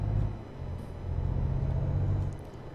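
A Volvo FH truck engine in Euro Truck Simulator 2 rumbles at a steady low idle-to-cruise drone, moderately loud and alone, swelling slightly midway.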